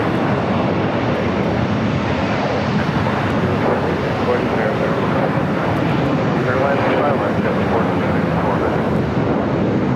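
An airplane roars steadily at Los Angeles LAX airport, a broad continuous engine rumble that is loud and sustained throughout with no pause.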